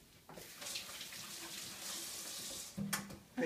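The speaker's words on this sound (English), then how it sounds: "I'll wash my hands off real quick." Water runs from a kitchen tap while hands are washed during pork preparation, a soft, steady splashing stream that stays fairly quiet and swells slightly near the end.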